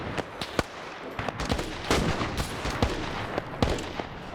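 Rapid submachine gun fire in a military video game, with sharp bursts and single shots cracking repeatedly across the clip, loud and close amid a busy battlefield din.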